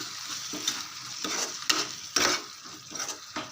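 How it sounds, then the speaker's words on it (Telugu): A spoon stirs drumstick curry in an oily pan, giving repeated scraping strokes over a soft background sizzle, with several sharper scrapes at uneven intervals. "ఇప్పుడు ఒకసారి కలిపేసుకుందాం"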